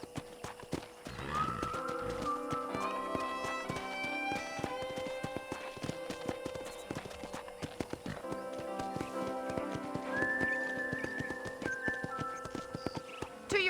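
A horse in Red Dead Redemption whinnies repeatedly while its hooves clip-clop steadily, the neighs standing out loud and close over a continuous game soundscape with no talking.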